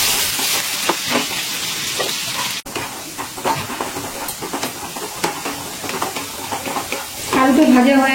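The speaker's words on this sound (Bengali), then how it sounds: "গ্যাসের ফ্লেমটা হাইতে দিয়ে আলুটা ভেজে নিচ্ছি।" Potatoes fry in hot oil over a high gas flame, a close, busy sizzle with scraping stirs and hissing bursts that builds louder near the end. No speech is heard.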